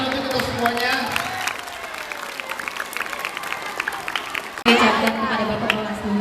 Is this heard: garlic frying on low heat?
no